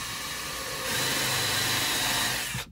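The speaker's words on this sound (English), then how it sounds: "So we're gonna come in and pre-drill again." A power drill pre-drilling holes in wood for a van bed platform, a close steady whine that rises in pitch and strength partway through, then cuts off abruptly at the end.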